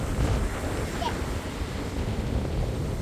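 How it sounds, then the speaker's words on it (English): Rough ocean surf breaking at a beach during a shark tooth hunt, heard as a steady, dense rumble of waves mixed with wind buffeting the microphone, continuous and fairly loud throughout. "The waves are getting really bad out there."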